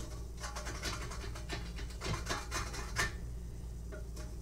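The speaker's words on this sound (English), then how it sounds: "Don't be afraid to hit it with a scraper." Repeated rough scraping strokes of a metal scraper across a hot pan, steady and close, with no talking.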